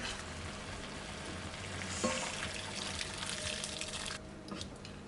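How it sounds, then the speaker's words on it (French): Boiling water pouring into a pan of caramelised pork glazed with dark soy, a steady rushing hiss with a sharp sizzling burst partway through, continuous and close. "on va ajouter de l'eau bouillante"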